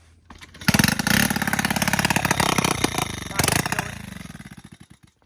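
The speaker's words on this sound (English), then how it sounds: "Start it again. See if it'll start back up." A Honda XR100 or Yamaha TTR90 pit bike engine cranks and catches, then runs with rough, pulsing revs near the mic before tapering off, while people talk over it.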